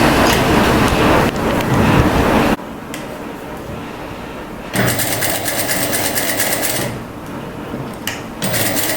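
A sewing machine stitching ao dai fabric runs in loud, close bursts of rapid whirring clatter, stopping briefly and starting again several times, with no speech heard.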